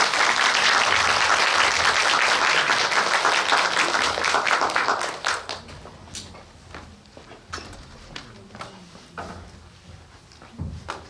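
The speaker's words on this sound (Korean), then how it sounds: "박수로 맞아주세요." Audience applause welcoming film director Yoon Ga-eun to a post-screening talk at the Myung Film Art Center in Paju: dense, loud clapping for about five seconds, then thinning to scattered claps.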